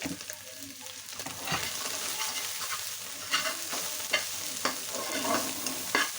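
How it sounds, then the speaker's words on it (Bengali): Hilsa fish roe and onion frying with a little turmeric in a hot pan while a spoon scrapes and taps through it in repeated stirring strokes, close by. "বেশি কড়া ভাজা যাবে না, এটা সামান্য পরিমাণ ভেজে নিতে হবে।"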